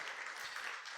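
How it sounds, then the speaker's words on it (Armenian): Church congregation clapping together in praise during a worship service, a dense steady wash of many hands close and full for the whole second. "Եկեք լավ ծափահարենք Տիրոջ"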